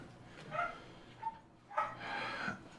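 Several house dogs bark indoors during a home rowing-machine workout, sending out a couple of fairly faint, muffled bursts of barking separated by quiet gaps.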